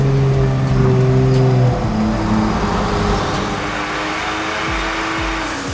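A modified BMW F30 roars loudly on a dyno, its engine holding a strong harmonic drone before the pitch shifts and winds down toward the end, with no talking.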